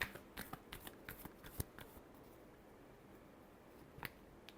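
A deck of tarot cards is shuffled close up in quiet, a run of soft, quick riffling flicks and taps, then a single sharper snap near the end.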